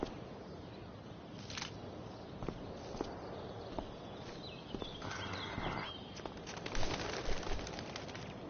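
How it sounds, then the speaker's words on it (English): A bird takes off in Life Is Strange: Before the Storm, a brief flurry of wingbeats over soft ambient game noise, with several scattered flutters and rustles building toward the end. "One small flight for this bird, one giant leap backward for Chloe Price"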